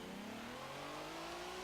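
A race car in Forza Motorsport 7 accelerates on a track, its engine tone climbing steadily as it pulls through the gears, a continuous loud whine with no voices.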